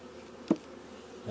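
Honey bees buzz around an opened beehive, a faint low hum in the background with one brief closer buzz as a bee passes.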